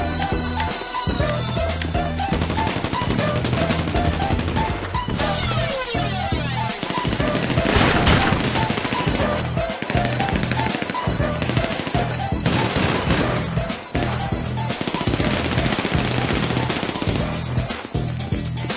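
Rapid, dense gunfire from a shotgun and other weapons in the GTA V Online adversary mode, with loud repeated bursts and blasts over a constant game soundtrack.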